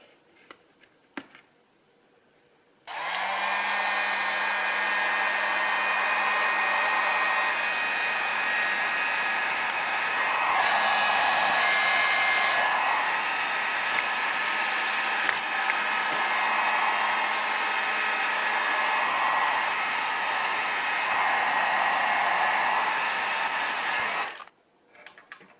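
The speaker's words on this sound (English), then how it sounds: "I think I'm going to try using a heat gun." Heat gun blowing on a motorcycle front wheel to melt old Loctite, a loud continuous whooshing roar with a steady motor whine that starts abruptly, runs about twenty seconds with slight wavering, then cuts off.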